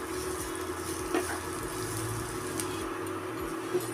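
Chopped onion frying in a pan over high heat gives a steady, soft sizzle with faint stirring scrapes, close and continuous with no voices.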